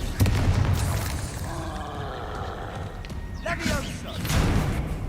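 Spell blasts, booms and combat impacts from the Hogwarts Legacy video game crackle under a steady background, with a person loudly calling out spell names throughout.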